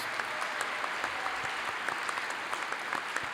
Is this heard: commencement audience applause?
yes